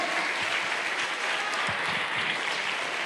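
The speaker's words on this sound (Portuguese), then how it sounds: "Fique de pé, aplauda Jesus" A church congregation applauds in sustained, dense clapping that fills the space loudly and evenly throughout, with no talk standing out.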